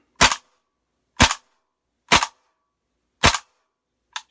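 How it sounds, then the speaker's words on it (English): A WE AK-74 airsoft rifle running on green gas fires a few single shots, four sharp evenly spaced cracks about a second apart and a fainter fifth, loud and close with silence between them. "this is going to be the WE AK-74. So with this one's going to be just the regular green gas. So I'll just pop off a few rounds"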